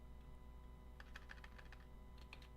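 Quick bursts of keystrokes on a computer keyboard, close and quiet, in two short clusters over a low steady background hum.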